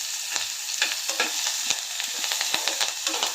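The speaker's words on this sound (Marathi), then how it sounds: "कांदा भाजून घेऊया जास्त भाजायचं नाही थोडंसं मऊ होईपर्यंत" Sliced onion fries in a pan with a close, busy sizzle and crackle, and a spatula scrapes and stirs it in quick repeated strokes.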